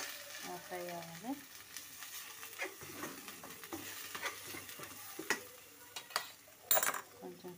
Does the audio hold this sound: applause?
no